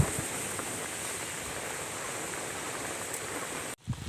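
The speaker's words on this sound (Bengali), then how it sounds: "চিংড়ি তুলে দিয়েছি, আরও আমি 10 মিনিট ভালো করে ফুটিয়ে নেব।" Prawn malai curry simmers in a pan with a soft, steady bubbling, like light rain, close by and without any voices.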